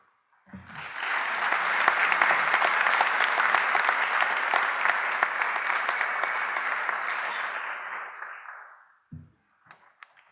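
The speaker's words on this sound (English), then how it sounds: "Please join me in applauding the effort and hard work by Dustin." An audience applauds a student award winner at an awards night, a dense, steady burst of clapping lasting about eight seconds before fading out, with no talk over it.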